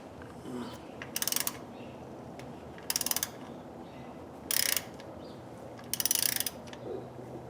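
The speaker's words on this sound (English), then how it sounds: "we're going to go ahead and pull our plug, left to loosen, of course." Wrench ratchet clicking in four short bursts while loosening the transmission drain plug on a 2014 Ford Fusion with a 6F35 transmission, the bursts separated by pauses over a low background hum.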